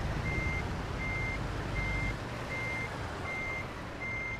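A truck backing up in American Truck Simulator sounds a regular series of six evenly spaced reversing beeps over a steady low engine rumble, with no talk.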